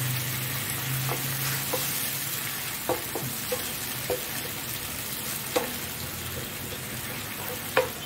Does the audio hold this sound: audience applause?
no